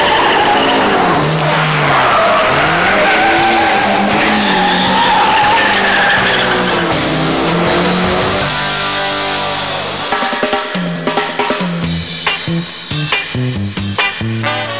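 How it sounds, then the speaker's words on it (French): A Renault 8 Gordini powers out of a corner with its tires squealing and sliding, the loud engine and skidding rubber close up, ending in choppier engine bursts. "La voiture à ce moment-là revient parfaitement en ligne pour sortir du virage de façon à ce que les roues arrière soient bien assurées sur la route et puissent accélérer."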